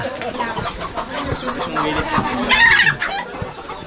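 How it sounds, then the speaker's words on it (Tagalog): Chickens squabble and cluck loudly in a village yard, with a rooster's crow rising briefly amid the agitated, overlapping calls. "Nag-aaway yung mga manok."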